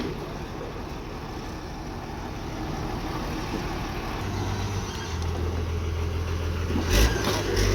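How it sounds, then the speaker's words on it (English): A truck engine idles at a beach house construction site in the Philippines, a steady low rumble that grows slightly louder and deeper toward the end. "Next truck already here."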